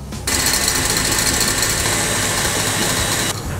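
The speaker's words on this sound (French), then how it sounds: "Je vais laisser tourner mon batteur pour pouvoir refroidir ma meringue italienne" A stand mixer whips hot Italian meringue, the sugar syrup cooked to the soft-ball stage, for a raspberry Christmas log: a steady, loud motor whir with a dense buzzing rattle that starts abruptly, runs unbroken, then drops away.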